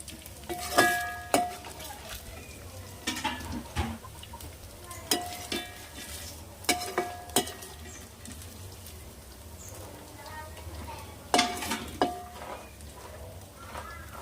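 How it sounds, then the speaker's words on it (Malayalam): Pieces of chicken frying in hot oil for fried rice are stirred and scooped with a utensil, giving a soft steady sizzle broken by several sharp scraping clatters at irregular intervals, close and fairly quiet. "ഇപ്പം നമ്മളെ ചിക്കന് നന്നായിട്ട് പൊരിഞ്ഞു വന്നിട്ടുണ്ട് കേട്ടോ"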